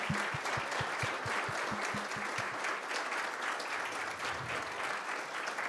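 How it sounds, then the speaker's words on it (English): Sustained audience applause for a group of board members at a global measurement and evaluation summit, dense and steady throughout from a large room, with a few distinct near claps standing out at the start. "please give this group another round of applause for all of their work"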